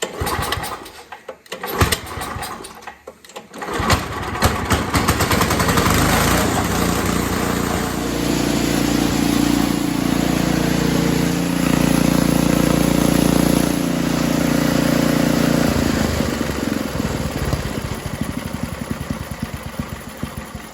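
Vintage Craftsman snowblower built by Snow Shark, its small engine sputtering to life after a few seconds of rough cranking, then running loud and steady close by, settling into a smooth even idle with no voices.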